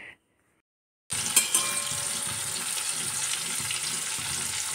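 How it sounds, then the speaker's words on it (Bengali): Hilsa fish frying in a pan, a steady, loud crackling sizzle that starts suddenly after a brief silence and continues evenly. "দেখো, এখানে হচ্ছে ইলিশ মাছ রান্না হচ্ছে।"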